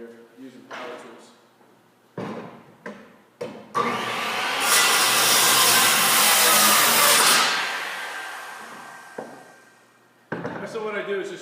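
A power saw whines up and cuts the end off a wood board for several seconds, loud and close, then spins down; someone talks before and after the cut.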